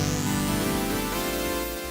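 A JX10 synthesizer patch loaded in the Unify plugin plays a thick, bright sustained chord with a rising sweep at the top, loud and continuous for two seconds with no talking.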